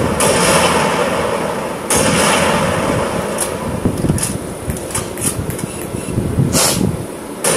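Explosions in Halo Reach, with heavy booming blasts and sharp cracks over a loud, continuous rumble. Several bursts land in an irregular rhythm, up close and dominating the sound.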